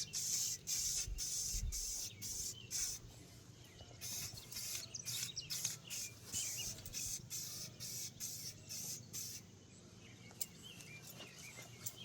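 An aerosol can sprays primer onto a utility trailer tongue in short hissing bursts, each lasting about a second, with brief gaps between them and a quieter stretch toward the end.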